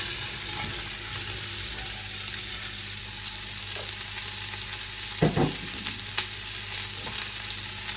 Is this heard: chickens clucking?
no